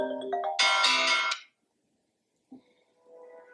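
A phone ringtone chirps brightly for about a second, then falls silent, followed by a short click and a faint tonal trail.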